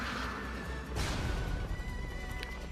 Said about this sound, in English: Well, I'm on a horse, no less.